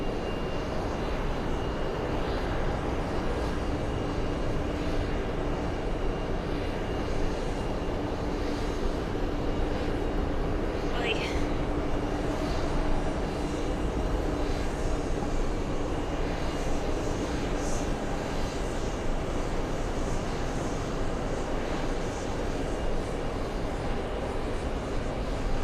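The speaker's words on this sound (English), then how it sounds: "I'm excited to see this big fancy 747." Big airliner engines, a Boeing 747 among the traffic, roar steadily and loudly without a break, a broad continuous jet rumble at an airport with no talking.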